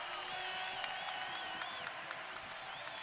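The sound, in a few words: basketball crowd cheering at Dahlberg Arena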